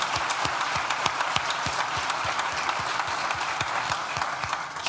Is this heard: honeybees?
no